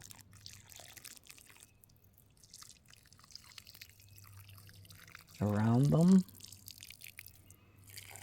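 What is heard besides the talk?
water gently poured onto planted onion starts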